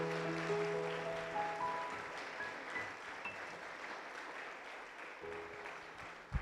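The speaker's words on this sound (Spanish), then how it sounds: "Vamos a darle un fuerte aplauso al Señor" A church congregation applauding together, a sustained, full round of clapping that slowly tapers, with music playing beneath it and a brief resurgence near the end.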